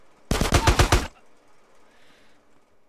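Rapid automatic gunfire in the video game GTA San Andreas, a loud close burst of about six sharp shots in under a second, followed by a faint ambient game background.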